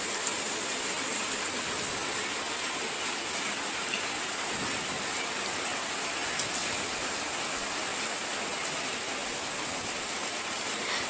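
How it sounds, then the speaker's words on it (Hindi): Heavy monsoon rain falling outside a home, a steady dense hiss of drops on surfaces without pause, moderately faint and even throughout. "तो बारिश तो थमने का नाम ही नहीं ले रहे हैं।"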